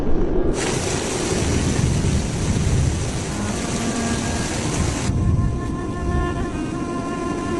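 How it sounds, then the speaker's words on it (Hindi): Rain and thunder in a 2D Hindi cartoon form a loud, continuous roar of downpour with deep rumbling throughout, heard without any voices. "हे भगवान, बारिश होने लगी।"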